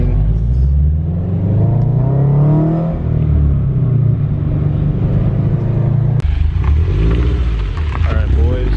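A Subaru BRZ fitted with very loud aftermarket exhaust headers drives close by, its low rumbling drone rising and falling through gear changes and steady throttle from start to finish.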